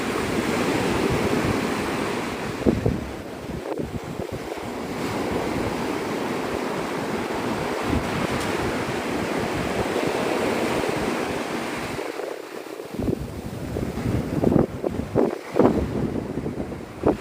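Strong wind gusting across Navarre Beach at sunrise, roaring over the microphone and mixed with rolling surf, loud and continuous with brief dips and bursts, and no one talking.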